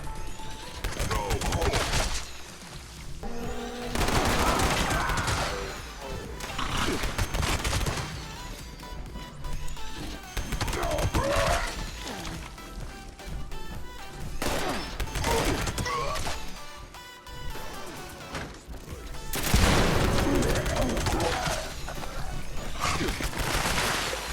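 Weapon fire in the video game Fallout 76 from a crafted Pepper Shaker gun, fired at close range on a level 100 enemy, arrives as loud rapid bursts of shots with crashes and impacts, and short gaps between volleys.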